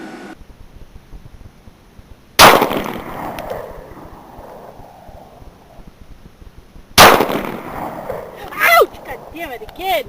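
Two sharp, loud reports from a Kel-Tec P11 9mm pistol a few seconds apart, each ringing out briefly, followed by faint scattered noise.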